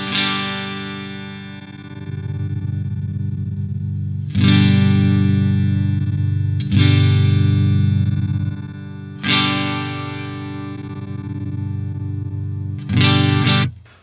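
An electric guitar through a Two Notes Torpedo CAB M plays sustained distorted chords, four loud struck chords each ringing out for several seconds with a thick, saturated tone, alone without talk.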